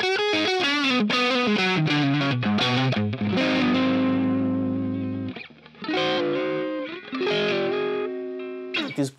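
An electric guitar riff runs through NUX MG-30 distortion and effects, loud and up close with no talk, playing quick picked notes before ringing into sustained, saturated chords, then picking up again.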